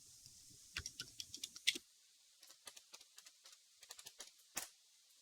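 Crisp keystrokes on a computer keyboard come in short bursts of separate clicks with small pauses between them, close and fairly quiet, with no voices.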